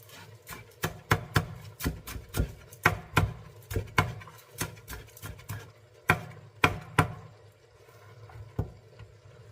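A knife chops onion on a board in a steady, brisk rhythm, with sharp close taps landing about every half second, alone and with no talking.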